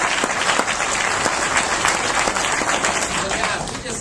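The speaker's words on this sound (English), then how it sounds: "Give yourselves a round of applause." A conference audience in Atlanta applauds itself, loud continuous clapping from a large crowd with voices mixed in, holding steady before easing slightly at the end.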